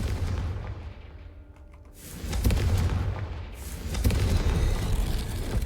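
Confringo fire spell blasts in Hogwarts Legacy, a pair of deep booming explosions with rumbling tails, loud and close, separated by a brief lull.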